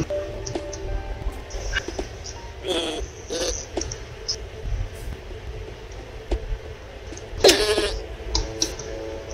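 Sheep bleat in the video game Starbound, a few short bleats scattered over soft game ambience, moderately quiet and mixed with other small effects.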